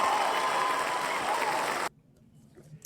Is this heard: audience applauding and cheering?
yes